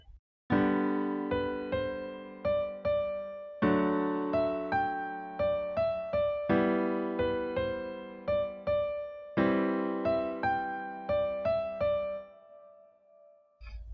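Piano playing the verse of a song slowly, left-hand block chords struck with right-hand melody notes following, several chord groups sounding one after another with a steady rhythm, close and clear, no talk.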